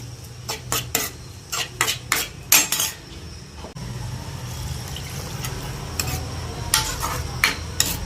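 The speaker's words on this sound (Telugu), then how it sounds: "ఒక తిప్పు తిప్పేసి" A spoon clinks and scrapes against a metal pot of dal and cabbage curry in quick, irregular strokes, then a steady bubbling simmer carries on with a few more clinks.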